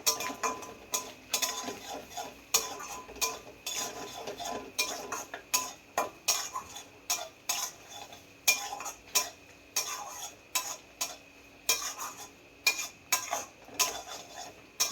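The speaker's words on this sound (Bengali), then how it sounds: "এক থেকে দু মিনিট নাড়াচাড়া করে নিতে হবে" Ridge gourd being stirred in a pan, a rhythmic series of metallic spatula scrapes and taps against the pan repeating every half second or so over a low background, close and clear with no talking.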